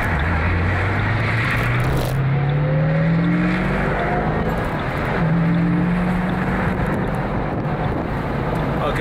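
A borrowed car pulls away fast and drives on steadily, with engine tones rising as it accelerates, heavy wind buffeting the microphone throughout, fairly loud and continuous.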